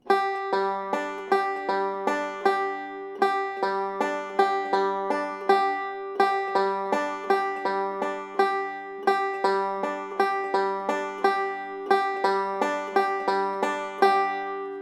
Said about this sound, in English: So that is the sound of the banjo.